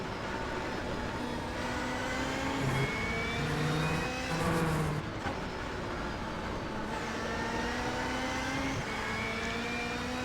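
A Subaru WRX STI race car runs hard on a circuit, its engine droning loudly and steadily with shifting revs and a brief swell midway, heard from close by with no voices.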